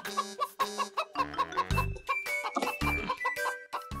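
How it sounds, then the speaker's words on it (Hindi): A rooster clucks and crows as though coming out of a cooking pot, repeated harmonic calls over a busy comic backdrop with low thumps and bursts of other sounds. "पतीली में से आवाज आई है मुर्ग की"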